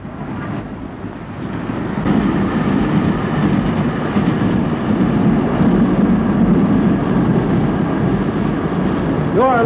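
LMS steam locomotive train running steadily on rails, a continuous loud rumble with rhythmic wheel clatter, heard under someone narrator.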